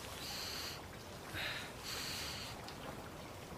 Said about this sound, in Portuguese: Precisa ficar fungando tudo?